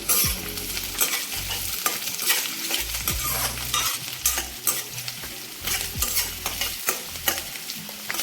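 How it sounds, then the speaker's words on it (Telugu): Onions and curry leaves fry in a pan for a gongura curry, with a steady close sizzle broken by repeated scraping stirs of a spoon across the pan and no talking. "ఉల్లిపాయలు కొంచెం బాగా వేగాలండి"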